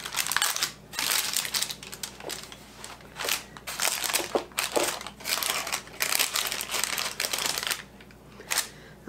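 Parchment paper crinkles and crumples in repeated loud bursts as it is pressed into a pan for banana pudding brownies, close and bright with short pauses between handlings.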